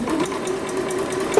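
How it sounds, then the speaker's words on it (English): A sewing machine with a regular presser foot runs steadily, stitching a half-inch side seam on an elastic skirt waistband, a close, continuous motor whir with a rapid needle rhythm and no talking. "we're going to stitch the side seam of the waistband at 1/2 inch."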